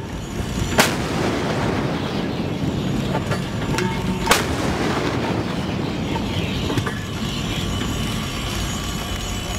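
Navy ship deck guns firing, two loud sharp blasts about three and a half seconds apart over a steady roar of wind and engine noise, with a few fainter reports afterward.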